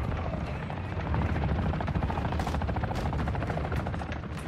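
A helicopter in the video game Call of Duty DMZ keeps up a steady, loud rotor thrum with dense gunfire-like crackle mixed in, filling the whole stretch without a break.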